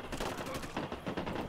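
Rapid bursts of automatic gunfire from the video game Ghost Recon Wildlands, repeated cracks in quick succession with a firefight-like rhythm, fairly close and loud.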